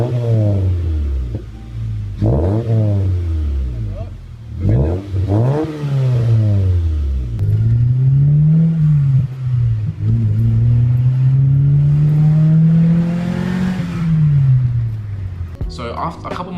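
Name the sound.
car revving with new exhaust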